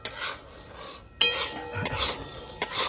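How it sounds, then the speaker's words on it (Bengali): Peanuts being roasted with salt in a pan, with gritty rattling and scraping as the nuts and salt are shifted, plus a few sharp metallic knocks, close and moderately quiet. "আমি আজকে বাদামটা নুন দিয়ে ভাজছি।"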